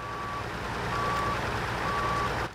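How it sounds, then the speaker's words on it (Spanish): Truck reversing alarm in the SnowRunner video game, three steady beeps at a regular interval over a loud, continuous engine rumble, close and clear. "la alarma de reversa."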